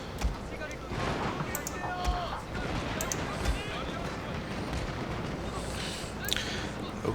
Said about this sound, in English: My matchlocks will fire.